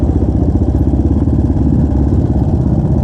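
A heavy Yamaha Scorpio motorcycle labouring up a steep hill on a riverside motocross trail, its engine a loud, close, pulsing thump at low revs that never builds power, steady for the whole stretch with no talk.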